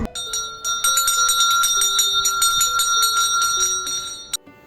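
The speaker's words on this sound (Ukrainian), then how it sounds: "Лунає дзвоник для вас востаннє" A school bell rings steadily and loudly through a last-day-of-school ceremony, its bright metallic tone sustained for several seconds before cutting off abruptly.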